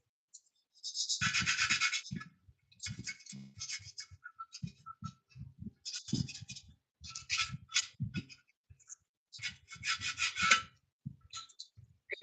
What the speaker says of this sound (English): sanding it nice and smooth should kind of help with the lines and how they fit in there.